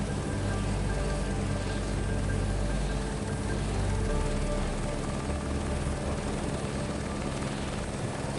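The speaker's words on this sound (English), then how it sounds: "Moving to helicopter. We're ready for takeoff." A helicopter in Microsoft Flight Simulator 2024 spools up for takeoff in the Alps, its rotor and engine making a steady, loud, droning whir with a low pulsing thrum underneath throughout.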